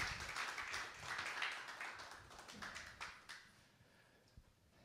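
Applause from a crowd at an evening prayer gathering, a soft, dense patter of clapping that gradually thins and fades toward the end.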